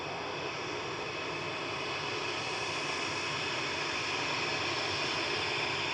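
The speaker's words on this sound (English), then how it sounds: "Virgin 128 from New York JFK, A350 1000." Virgin Atlantic Airbus A350-1000 jet landing at Manchester Airport after a flight from New York JFK, a steady distant whooshing engine roar that holds evenly and swells slightly toward the end.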